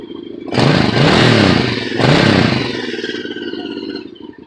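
A motorcycle engine being coaxed into running gives two loud, close revs in quick succession, then drops back to a steady, burbling idle that fades slightly at the end.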